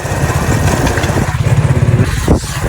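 A motorcycle engine runs close by during a ride, a steady throbbing drone with rhythmic pulsing and a brief rise near the end.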